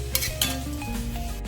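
Close metallic scraping and clanking of a utensil against a pan as fried prawns are lifted out into a bowl, with a faint sizzle of hot oil continuing underneath.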